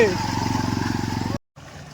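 A motorcycle runs in floodwater after very heavy rain in Bongaon, its silencer submerged, producing a close, steady rhythmic throbbing putter that cuts out abruptly for a moment near the end before a fainter drone resumes.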